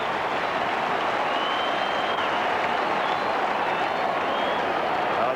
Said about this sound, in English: Crowd applause says it all